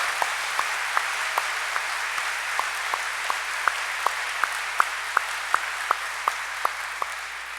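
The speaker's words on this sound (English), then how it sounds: "Let's give them one more round of applause." Steady, even applause from a large audience at the NACAA 2015 conference welcome address, a continuous hiss of many distant hands, with a few sharper individual claps standing out at a regular pace.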